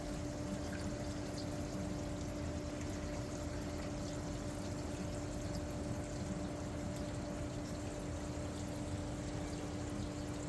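Water moves steadily in a 90-gallon freshwater planted aquarium, a constant soft pouring and trickling wash with a faint steady hum beneath, no voices.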